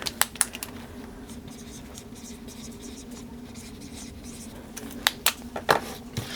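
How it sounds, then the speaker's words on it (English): Pen strokes scratching across paper in a budgeting binder, a few quick scrapes at the start and a cluster near the end, with a steady low hum in between. "I'm going to write blessings on here"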